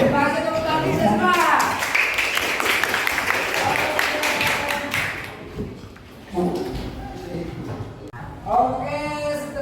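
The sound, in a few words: class applause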